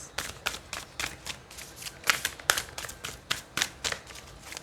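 Tarot cards shuffled by hand during a weekly reading: a rhythmic series of about a dozen sharp, close riffling bursts at a quick, regular pace, with no voice.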